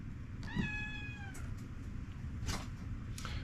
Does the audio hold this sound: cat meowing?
yes